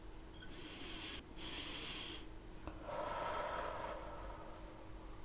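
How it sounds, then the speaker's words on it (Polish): During a guided relaxation, a person takes a breath in through the nose and then lets out long, loud breaths through the mouth. Two or three airy, close breaths follow one another in a quiet room. "Rób dech nosem i długi, głośny wydech ustami."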